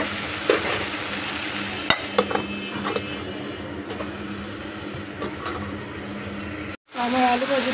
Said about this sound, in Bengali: তো আমি আরেকবার নাড়া দিয়ে আবার একটু ঢাকা দিয়ে ঢেকে দেবো